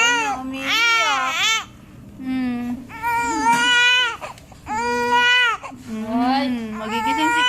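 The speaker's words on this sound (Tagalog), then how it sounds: "Totoo na, umiiyak." Baby crying at home in short wailing bursts separated by brief pauses, close and loud, with whimpering breaths between cries.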